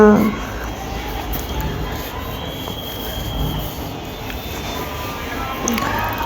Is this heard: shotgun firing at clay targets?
no